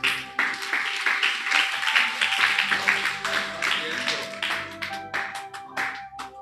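A church audience at a ministers retreat clapping hands in a steady, brisk patter of many hands, close and fairly loud, with a voice over it and a sustained tone running underneath.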